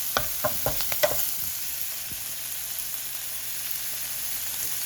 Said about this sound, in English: Let's give that a quick stir.